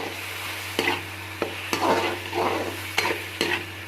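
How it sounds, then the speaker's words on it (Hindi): Spices roasting over a low flame in a pan for a potato dish, stirred with a utensil: a soft steady sizzle broken by sharp, regularly spaced scrapes and knocks against the pan. "मसालों को अच्छी तरह से भून लेंगे"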